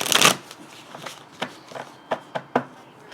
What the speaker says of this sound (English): Okay, I shuffled these a lot,